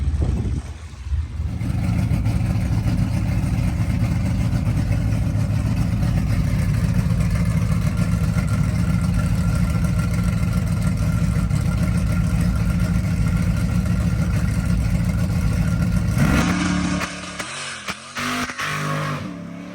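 A ZZ632 crate V8 in an OBS pickup truck roars under hard, sustained acceleration, a loud, steady engine drone held for many seconds before it abruptly drops off near the end.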